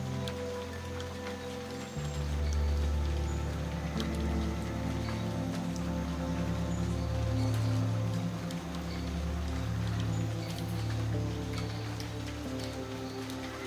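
Gentle rain patters steadily on surfaces, a soft continuous hiss of drops layered over a low, even drone, calm and unbroken throughout.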